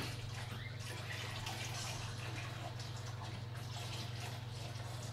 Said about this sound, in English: And now I pour the hot water in.